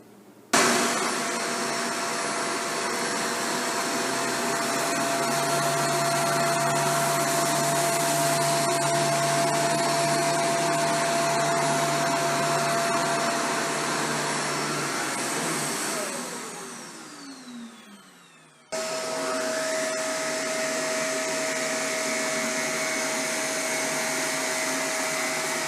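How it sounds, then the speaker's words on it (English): Shark Vertex vacuum cleaner running steadily while cleaning tight along a wall edge, a loud continuous motor whine that dips and changes pitch briefly near the end before resuming, with no talking. "that really tests the ability of the vacuum to clean right up tight against a wall or an edge"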